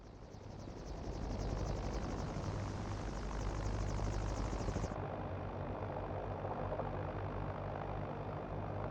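Hiller UH-12B helicopter in Microsoft Flight Simulator, a steady droning engine and rotor hum with a low rhythmic thump. A high whine cuts out partway through, leaving the constant rumble.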